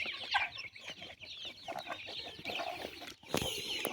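Broiler and local chickens feed together, clucking busily and continuously at close range, with overlapping short calls and scratching, and a louder burst near the end.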